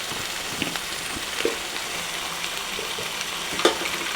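Liver frying in a pan for a Kerala-style liver roast, a steady soft sizzle with faint crackles and a few light clinks close by, no talking.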